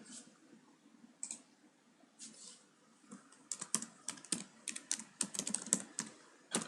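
Computer keyboard typing, soft and close, with scattered keystrokes at first, then a denser burst of quick clicks over a low steady hum.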